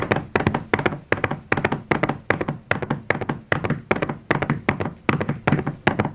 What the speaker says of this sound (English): keep your feet flat on the floor and do a right-left pattern in short bursts of four